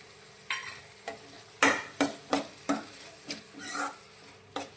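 A spoon stirs dark soy sauce into sautéed cabbage and onion for Manchurian, producing a series of about ten short scraping strokes with a soft sizzle underneath, close and fairly quiet.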